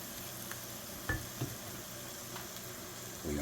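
Jalapeno pepper and vegetables sizzle in a pan over medium heat, a faint steady frying hiss with a couple of soft stirring knocks.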